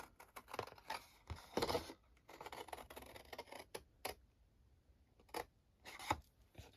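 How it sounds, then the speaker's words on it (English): Scissors snipping through paper in short bursts of crisp cuts, with pauses between, close up. "So I'm using a larger pair of scissors."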